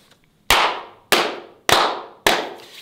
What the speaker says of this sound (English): Can we slow clap the brother out?